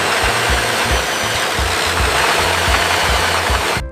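A drilling machine boring into the ground at a construction site, with a steady loud engine drone and repetitive low thumping pulses throughout, close and alone.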